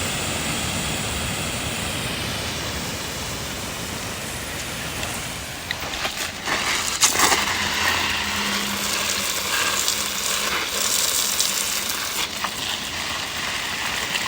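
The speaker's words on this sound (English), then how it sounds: "I'm going to give these a quick sprinkling" Water from a battery-powered pump hose sprays onto squash plants outdoors, a steady hissing patter that picks up louder spatter partway through as the stream strikes the leaves, with no talking.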